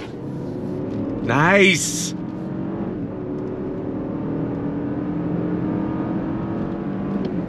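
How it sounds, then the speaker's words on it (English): A 2022 Lexus LX 600 F Sport with a twin-turbo V6 pulls away from a dead stop, its engine note rising in a brief climbing rev before settling into a steady rumble of driving, with a single short spoken word over it. "I'm actually not upset about the sound from the twin turbo V6."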